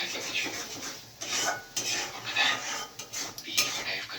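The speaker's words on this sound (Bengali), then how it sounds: "কাশ্মীরি লঙ্কা দিয়ে ভালো করে নাড়াতে হবে" Onions and Kashmiri chili being stirred in a pan, with a utensil scraping the metal in repeated close, fairly loud strokes and short pauses between them.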